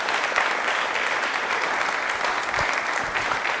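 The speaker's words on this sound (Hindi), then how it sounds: "तो तालियां इनके लिए ही बनती हैं" An audience claps for a yoga performer in a televised yoga special, dense steady applause filling the whole stretch at an even loudness with no talk over it.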